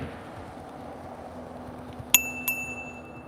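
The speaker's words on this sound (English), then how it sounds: "The bell's on point." Two sharp, bright rings from the bell of a Himiway D5 2.0 ST 750W electric bike, heard close and loud in quick succession against quiet background noise.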